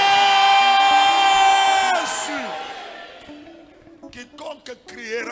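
A church congregation shouts loudly together in one sustained, ringing crowd cry that fades into scattered voices and talk.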